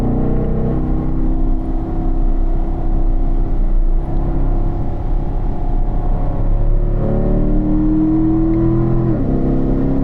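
A race car on a track-day circuit powers out of a turn, its loud, steady engine drone holding close and then climbing in pitch near the end as the throttle opens.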